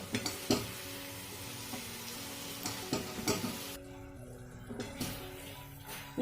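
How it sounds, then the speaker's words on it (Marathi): A spoon stirring cardamom powder into carrot halwa in a pan, with repeated scraping and clinking strokes against the metal over a soft background sizzle, close and fairly loud. "अर्धा चमचा विलायची पावडर मिक्स करून घ्यायचे"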